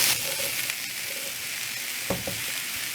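Cauliflower, broccoli, zucchini and pepper stir-fry in oil in a pan for gluten-free pad thai, giving a steady, even sizzle with a couple of soft stirring knocks near the end.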